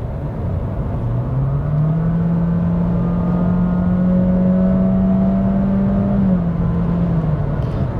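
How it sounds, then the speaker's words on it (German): A Honda Jazz Crosstar engine at full throttle gives a steady, droning whine that climbs slightly and holds, loud and continuous from inside the car with no talk. "Am lautesten kann allerdings der Motor schreien, wenn man denn einmal wirklich Vollgas gibt."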